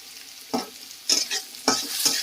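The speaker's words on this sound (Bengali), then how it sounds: "এবারে এটা দিয়েও একটু হালকা ভাজা ভাজা করে নেওয়া হচ্ছে" Onions and green and red chillies sizzle and fry in hot oil, with three or four scraping stirs of a spatula at close range, and no voices.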